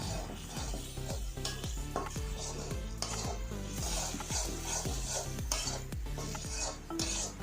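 A spoon scrapes and stirs spice paste with black pepper, salt and sugar in a pan for village-style chicken curry, steady rhythmic strokes over a constant low sizzle of frying, close and fairly quiet, with no talking.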